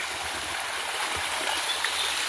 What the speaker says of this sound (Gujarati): અહીંયા પાણીનો ધોધ પડે ભાઈ